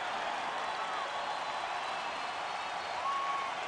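Baseball stadium crowd at a Cardinals at Brewers game roaring in a steady, loud wash of cheering that holds across the whole stretch without letup, with no distinct voices standing out.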